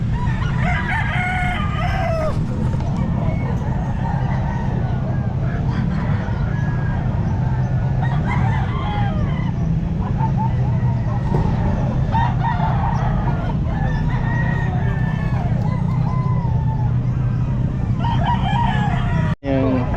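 Roosters crow repeatedly at a busy Calumpit pet market, their drawn-out calls rising over a constant wash of crowd noise and clucking, with a sharp knock near the end.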